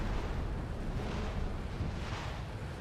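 Sustained rumbling artillery barrage from the Company of Heroes World War II strategy game, a dense continuous roar of distant explosions with swelling bursts and no clear gaps.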